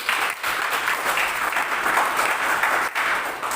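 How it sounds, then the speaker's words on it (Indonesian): Church congregation applauding during a sermon, steady dense clapping from a crowd that fills the whole stretch at an even, loud level. "Tepuk tangan buat Tuhan."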